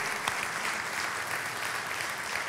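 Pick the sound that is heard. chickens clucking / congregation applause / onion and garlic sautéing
congregation applause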